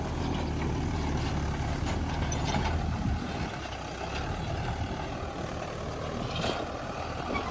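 A tractor ploughs a second pass through a peanut field, its engine a steady low rumble and drone close by, with faint mechanical clatter over the top.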